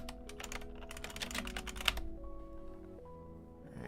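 Fast bursts of clicking computer-keyboard keystrokes as a command is entered, close and crisp over a steady electronic hum, then typing stops and the hum carries on.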